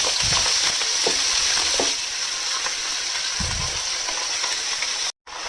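Fenugreek leaves frying with tomato and potato in a pan, a continuous close sizzle with a few soft stirring bumps, no talk.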